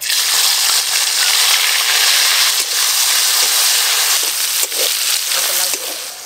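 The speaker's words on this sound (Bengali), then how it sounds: "সব মাছ ভাজা হয়ে গেল, এবার চিংড়ি মাছগুলো ভালো করে ভেজে নেব।" Salt-and-turmeric-coated prawns frying in a pan give a steady, close, loud sizzle and hiss that holds across the whole stretch, with a few small pops and crackles breaking through.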